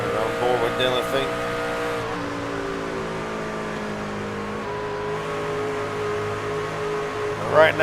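Race cars lapping Pocono in a sim racing game, with a steady engine drone and sustained tonal whine that shifts in pitch, then a brief revving burst near the end, under continuous commentary.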